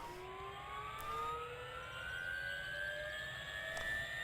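Helicopter in Farming Simulator 2013 starting up, a steady turbine whine rising gradually in pitch over several seconds, moderately loud with no talking.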